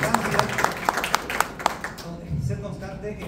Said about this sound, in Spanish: quiero darle un aplauso a ustedes por estar acá